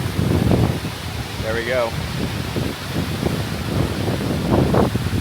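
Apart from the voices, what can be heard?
wind blowing near the falls at Sioux Falls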